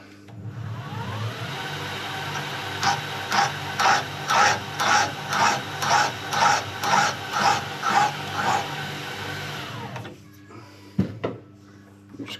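A machine cutting a racing seat gives a steady series of about a dozen rhythmic grinding pulses over a mechanical hum, then stops, followed by a couple of sharp knocks.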